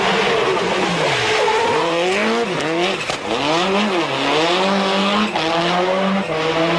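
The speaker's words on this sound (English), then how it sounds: "when you are throwing the WRX sideways in the snow" A 2017 Subaru WRX Limited is thrown sideways in the snow. Its engine note swoops up and down in repeated revs while the car slides, loud and close, with no talk.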